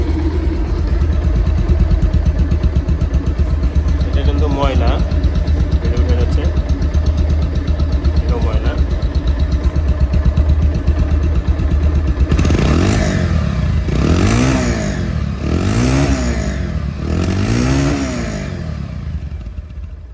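A 2021 Bajaj Pulsar double-disc motorcycle engine idles steadily and evenly for a while, then revs loudly in four or five rising and falling bursts, with brief talk over the idle early on.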